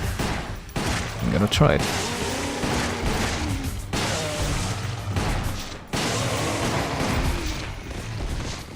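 Rapid, dense gunfire in a shooter video game, with loud continuous bursts of shots and sharp cracks, while someone talks briefly over the shooting.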